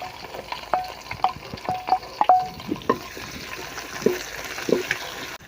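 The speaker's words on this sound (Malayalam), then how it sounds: "ഇനി നമുക്ക് ചെറിയ ഉള്ളി സവാള പച്ചമുളക് ഇഞ്ചി വേപ്പില ഇത് ചേർത്ത് കൊടുക്കാം" Shallots, onion, green chili, ginger and curry leaves frying in oil for a toddy-shop style chicken curry, a steady close sizzle broken by several sharp spattering pops and clicks of stirring.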